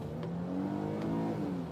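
A storm chaser's car engine revving steadily at close range during severe tornado weather, a continuous droning roar lasting under two seconds with no talk over it.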